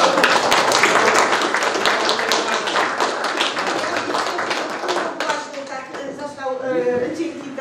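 Applause from an audience at a municipal council session in Kurów, a dense, steady patter of many hands clapping loudly for most of the stretch, then thinning out toward the end as it fades under room noise.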